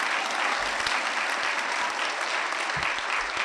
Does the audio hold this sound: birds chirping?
no